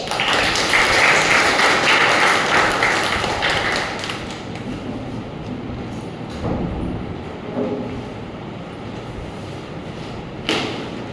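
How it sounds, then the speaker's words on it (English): Thunderous round of applause from the audience at a Toastmasters club meeting, loud dense clapping that swells at the start and slowly thins out over about eleven seconds. "With a thunderous round of applause"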